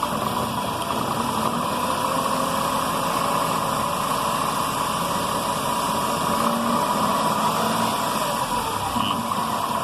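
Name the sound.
car engine revved to 1500-1800 rpm during battery charging test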